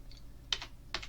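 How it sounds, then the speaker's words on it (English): Computer keyboard typing heard up close, a few quick keystrokes in two small bursts with a pause between, against a faint steady hum in a quiet room. "Let me just type that out."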